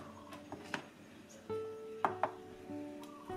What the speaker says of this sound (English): I don't know what the first thing was he was chopping up